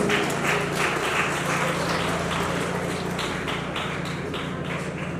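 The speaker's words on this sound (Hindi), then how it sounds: "एक बार जोरदार तालियां हो जाए सभी के लिए" Loud, dense applause from a school annual day audience, cheering on the teaching and non-teaching staff. Steady crowd clapping fills the whole stretch without a break.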